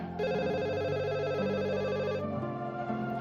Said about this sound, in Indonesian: Tunggu ya, Mbak angkat telepon dulu ya.